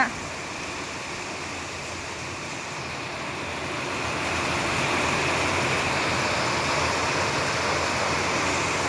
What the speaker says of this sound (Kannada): ಎಂಥ ಮಳೆ ಅಂದರೆ ಫುಲ್ಲು ಮಳೆ